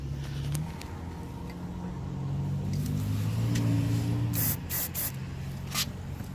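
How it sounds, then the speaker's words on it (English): Several short, sharp hissing bursts of electronic cleaner spray near the end, aimed at a connector on a 2008 Volvo S60 with an electronic throttle module fault, over a steady low engine-like rumble. "I think I'm going to spray some electronic cleaner on that surface"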